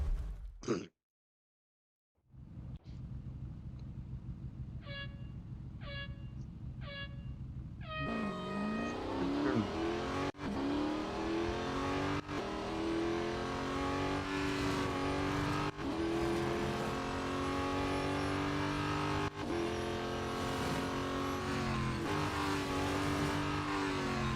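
A race car engine in Real Racing 3 revs up after a short silence and a few beeping countdown tones, then drones with rising and falling gear-change whines, steady and prominent.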